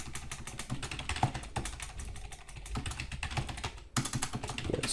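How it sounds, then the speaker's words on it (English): Headings typed on a computer keyboard: a steady, close stream of quick key clicks, with a brief pause near the end before typing resumes, and no talking. "what we're going to do is we're going to type in those headings."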